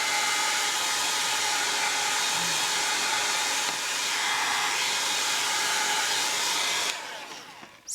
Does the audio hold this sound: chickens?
no